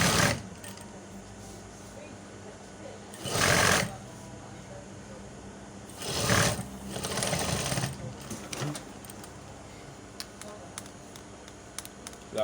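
Sewing machine stitching a welt pocket with a small 1/4 inch allowance, running in two short bursts of rapid mechanical whirring separated by quieter pauses with faint clicks and handling noise, moderately close.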